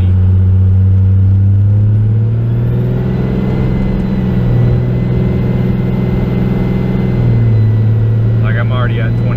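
Stock Cummins diesel pickup engine with an Edge Comp box, droning loudly inside the cab as the turbo spools, a steady low rumble that shifts pitch partway through, with someone speaking briefly near the end.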